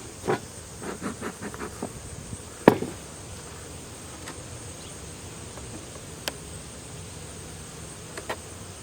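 Honeybees humming in a steady, moderately loud drone while a hive is opened for a fall inspection, with scattered clicks and knocks of frames and a sharp tap near the middle.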